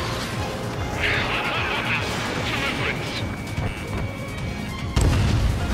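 Enemy aircraft blowing apart in the combat flight game Ace Combat 7, heard as a sudden loud burst near the end, laid over a steady roar of jet engine and battle noise, with radio voice chatter running underneath.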